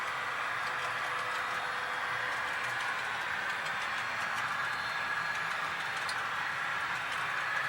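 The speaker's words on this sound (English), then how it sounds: "It's just a nice curve to get the train to come back, continuing to climb elevation." A model railway train climbs a curve on a mountain layout, a faint, steady whir of a small motor with light ticking from wheels on track, continuous and undisturbed by voices.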